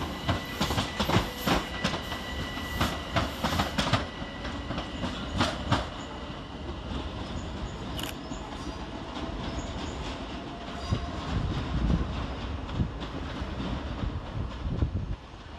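Train 387-203, a Southern service to Lewes, pulls away from Brighton station with rhythmic clickety-clack over rail joints, a steady rumble and a brief squeal, fairly close and fading slightly.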